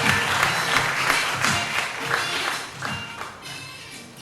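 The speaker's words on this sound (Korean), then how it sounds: "여러분 다시 한번 뜨거운 박수와 함께" An audience at a literary concert claps warmly, an even, continuous patter of many hands at moderate loudness, with no voices over it.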